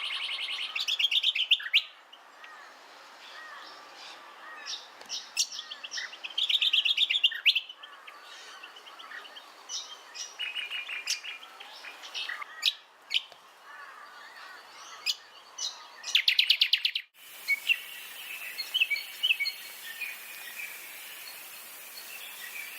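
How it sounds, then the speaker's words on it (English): Crescent honeyeaters calling in a moist lowland gully of southeastern Australia, giving sharp, bright chirps and whistled phrases in repeated bursts at close range, with soft insect buzzing and a quieter stretch in between. "moist gullies and other dense lowland habitats often resound with the calls of crescent honeyeaters in the cooler months"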